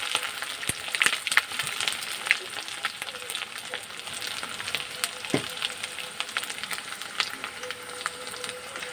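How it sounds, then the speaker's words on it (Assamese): Onions with ginger-garlic paste fry in a kadai, giving a continuous moderate sizzle with scattered crackles and occasional stirring clinks, with no speech. "এতিয়া ভাজি থাকিম যেতিয়ালৈকে অকণমান ৰঙচুৱা হৈ নাযায়।"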